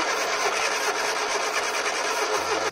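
A rusty Triumph Spitfire, left sitting for 25 years, cranks over with a steady continuous buzzing churn as it tries to start, loud and unbroken until it cuts off abruptly at the end.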